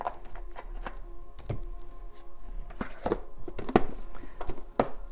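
An oracle card deck with a Christmas theme is shuffled by hand, giving a series of soft, close taps and riffling knocks in an irregular rhythm against a faint steady hum, with no talking.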